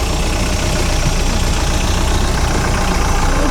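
A budget boat's engine idles steadily at close range, a continuous low rumbling drone with no pauses and no voices.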